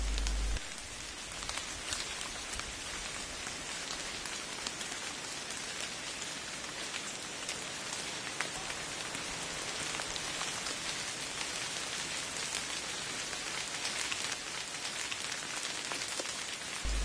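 Rain pouring steadily in a Madagascar rainforest, a dense, even hiss of drops on leaves and surfaces that holds constant and loud throughout, with no voices.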